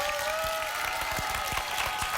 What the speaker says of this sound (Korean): 여러분들이 박수를 치셔야 된다는 겁니다.